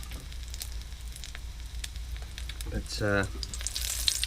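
Duck crackling sizzles and spits steadily as it fries in a pan aboard a narrowboat, a close crackle running throughout with a brief stir or clatter near the end and a single spoken word.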